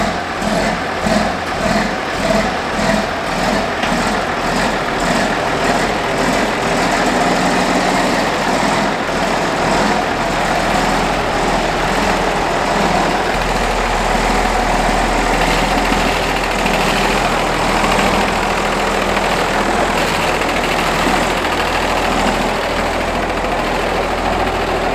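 A John Deere 6030 tractor engine idles steadily and loudly up close, a continuous throbbing rumble with a slight uneven pulse early on, then settling into an even drone.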